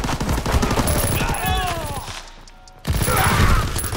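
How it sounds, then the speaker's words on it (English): Rapid automatic gunfire from a weapon in a WWII shooter video game, with dense bursts of shots, a brief pause, then more sustained firing, with someone talking over it. "This gun's fire rate is just absurd."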